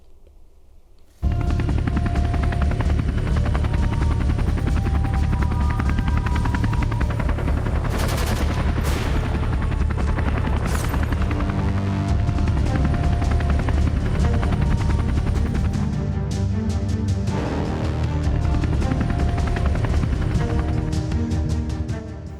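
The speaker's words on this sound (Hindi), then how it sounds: "आज ऐसा ही एक मेक इन इंडिया योद्धा भारतीय सेना में शामिल हुआ है, लाइट कॉम्बैट हेलीकॉप्टर।" An Indian Army Light Combat Helicopter, a made-in-India attack helicopter, roars with steady, loud rotor thump and turbine whine that starts abruptly and holds for about twenty seconds, with bursts that resemble gunfire layered over it.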